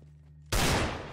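A loud burst of gunfire in the video game CS:GO, erupting suddenly after a quiet stretch with low background hum, then ringing out and decaying over the following second.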